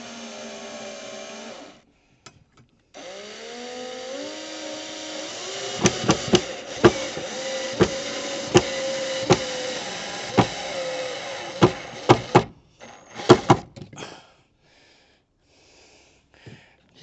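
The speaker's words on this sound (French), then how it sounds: "la perceuse visseuse." Cordless drill driver running in repeated bursts, driving two screws to fix a bed to the floor of a van, with loud clicking clutch ratchets near the end of each screw and short pauses between runs.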